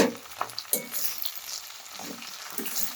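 Okra frying in oil for achari bhindi masala, a close crackling sizzle with repeated stirring scrapes and clatters of the spoon against the pan, no talking.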